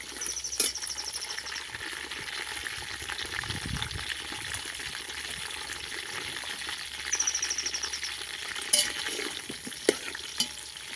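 Brinjal (eggplant) frying in oil on a wood-fired stove, a steady soft sizzle running throughout, with a few sharp clinks and taps of utensils near the end.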